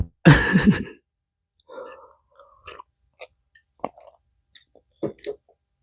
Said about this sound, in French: je prends ma paire de ciseaux,